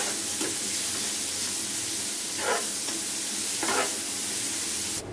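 Chopped onions frying in hot oil: a steady, fairly loud sizzle close by, with a few brief bursts of stronger crackle as they are stirred.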